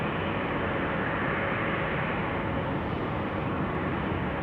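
Airplane climbing out after departure from Salt Lake City airport (KSLC), a steady, loud broadband roar of engine noise holding constant throughout with no talk.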